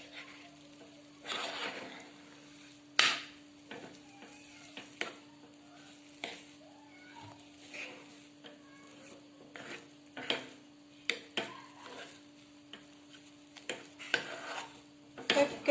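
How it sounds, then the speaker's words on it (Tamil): Thickening vattayappam batter stirred in a pan over low heat, scattered scrapes and clinks of a utensil against the pan with a faint steady sizzle, close and mostly sparse, with no talk. "இந்த மாதிரி கட்டி ஆகிற வரையும் நல்லா கிண்டி கொடுத்துக்கிட்டே இருக்கணும்."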